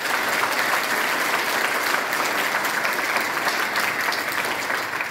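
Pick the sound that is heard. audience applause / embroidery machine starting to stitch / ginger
audience applause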